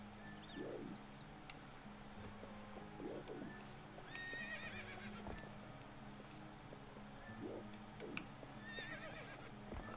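A horse in The Legend of Zelda: Twilight Princess HD gives repeated short snorting whinnies over a steady clip-clop of hooves, with game chimes and ambient tones in the background.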